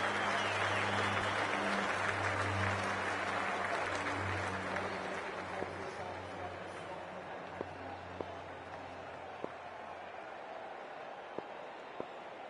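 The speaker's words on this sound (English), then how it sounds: "already the crowd is up and about" A cricket crowd before the start of an India vs Australia match, a steady broad roar of applause and cheering that slowly thins, with a low hum under it and a few sharp claps near the end.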